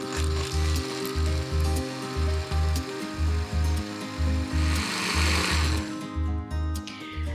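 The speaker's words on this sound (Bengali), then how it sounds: "আমরা এখন এটাকে ব্লেন্ড করে নিচ্ছি।" Electric blender running in a home kitchen, blending a nut milk drink of nuts and liquid milk, a loud steady motor whir with a rhythmic pulsing chop repeating throughout, close and alone with no voices.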